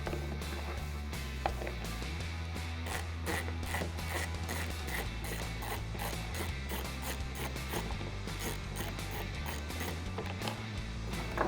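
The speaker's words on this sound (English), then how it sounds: "we're going to need a ratchet and a T25 Torx bit" A ratchet with a T25 Torx bit removing a headlight bracket from a 2018-2020 Ford F-150 headlight, a close, fast stream of ratcheting clicks running steadily throughout.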